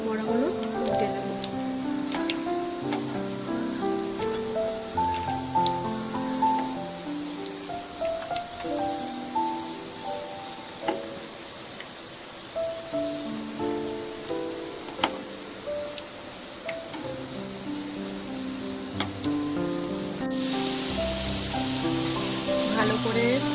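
Rohu fish roe fritters frying in hot oil in a home kitchen, a steady close crackling sizzle throughout, with a voice talking over it.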